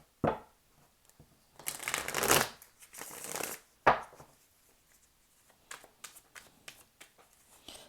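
Tarot cards being shuffled by hand in short bursts of papery riffling and soft slaps, a few louder flurries followed by scattered light taps and card handling in a quiet room.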